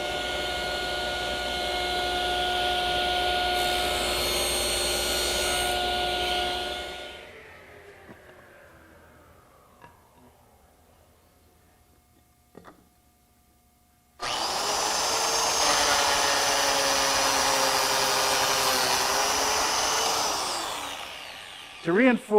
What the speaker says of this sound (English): I'm cutting biscuit slots. I found it better to put the plate joiner in a vise with these small pieces.